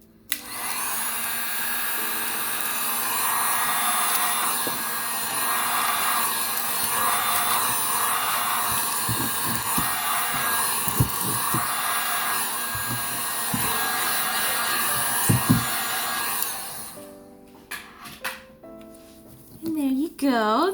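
A cheap Genesis heat gun blows a steady, loud whooshing hiss for about sixteen seconds as it shrinks plastic wrap around a bar of soap, with a few soft taps, then cuts off before brief handling noises.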